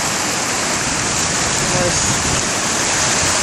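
Massive water release from the Oroville Dam, a loud, steady broadband roar of rushing water filling the whole stretch, with a voice speaking briefly over it.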